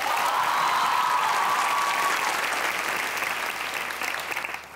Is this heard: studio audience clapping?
yes